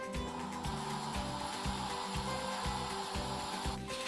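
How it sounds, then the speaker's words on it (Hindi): A pressure cooker's weight rocks on the stove while chicken cooks inside, giving a steady hissing jet broken by regular rattling pulses roughly twice a second, close and constant with no talking. "कुकर हिलना शुरू हो गया है"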